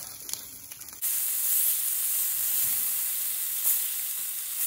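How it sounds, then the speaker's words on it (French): Merguez sausages sizzling in a hot pan as pizza topping, a steady bright frying hiss that starts abruptly after a second of quieter kitchen sounds and holds evenly, close up with no talking. "On met à chauffer les merguez pour la pizza"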